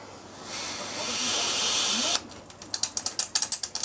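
High-voltage arcing inside a CRT TV during a teardown starts as a steady corona hiss, then breaks into a fast series of sharp, crackling snaps, close and fairly loud.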